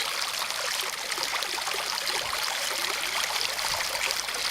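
Water spurting from the top of a tiered outdoor fountain, heard up close as a continuous bright splashing and trickling rush, steady and fairly loud with no talking.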